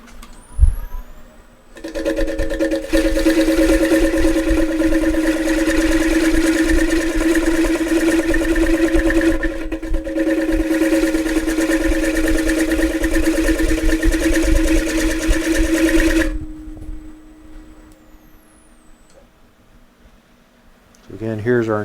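A fluteless gouge rubbing the bevel at a high shear angle cuts punky maple spinning on a wood lathe, a loud steady hum and cutting drone for about fifteen seconds, then fading as the lathe winds down, with some talk nearby.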